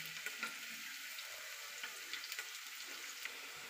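Sliced onion sautés in a pan for ghee rice with a faint, steady hiss of frying and a few soft stirring taps.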